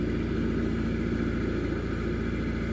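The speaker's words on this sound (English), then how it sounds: "The engine doesn't sound, I mean, it's not unhappy, but it's not, it's revving quite hard." A canal narrowboat's engine runs hard and steady at around four miles an hour, a loud continuous droning hum with no breaks and no voices over it.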